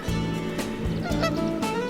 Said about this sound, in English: these Canadian geese are not very happy that I'm so close to the pond